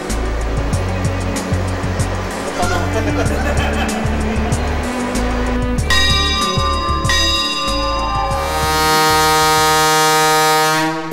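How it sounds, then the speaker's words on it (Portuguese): A train's loud, sustained horn blast with bright stacked tones rings out over a rumbling engine and mechanical noise as it departs Curitiba on the Paranaguá railway, holding steady toward the end. "O trem dá seu sinal e entra em movimento."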